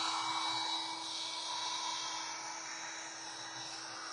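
A heat gun blows steadily over resin in a beach art project with a broken bottle and seashells, a continuous close airy whoosh with a faint tonal hum that eases slightly over a few seconds.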